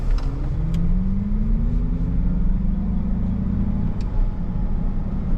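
A 2024 Acura ZDX Type-S pulls away under steady acceleration, its engine pitch climbing smoothly over a constant road rumble heard from inside the cabin, loud and close with no talking.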